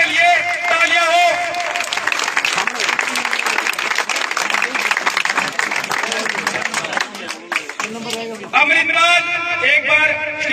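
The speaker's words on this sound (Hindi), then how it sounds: "तो जोरदार इनके लिए तालियां हो।" Loud crowd applause and clapping at a 5 km running race prize ceremony, a dense sustained wash over several seconds, with someone speaking over a microphone near the end.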